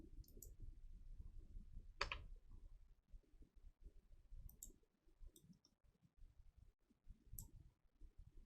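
A single sharp keyboard key press stands out briefly amid quiet room noise and a few faint ticks, used to merge cells in the Hangul word processor.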